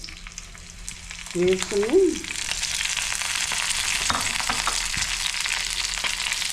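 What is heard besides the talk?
dried chillies frying in oil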